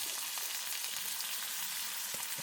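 Onions and green chillies frying in a pan, a dense, even hiss of oil sizzling close up, continuous throughout with a few faint knocks and no voices.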